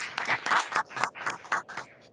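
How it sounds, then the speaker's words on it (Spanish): A small group of six or seven people claps together in a short, uneven burst of applause, the individual claps distinct and fairly close, with faint voices mixed in. "te vamos a dar el aplauso en nombre de todos"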